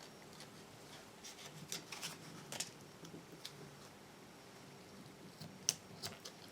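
Small scissors snip a little bit of paper in half, giving faint, scattered crisp clicks and snips in a quiet room.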